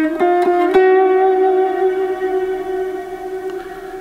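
A guitar note rings out after a few quick picked attacks, then sustains cleanly and slowly decays, close and solo with no talk.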